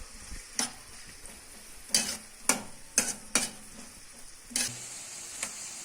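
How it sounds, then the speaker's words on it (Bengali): Fish frying in a pan, a soft low sizzle punctuated by several sharp metallic scrapes and taps of a spatula against the pan at irregular intervals. "মাছগুলা ভেজে নিই।"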